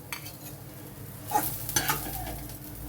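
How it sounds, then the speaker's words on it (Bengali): Bitter gourd frying in hot mustard oil in a kadai, a soft steady sizzle with a few sharp spatula scrapes and stirring clatters near the end, no talking. "এখন করলাটা আগে ভেজে তুলব।"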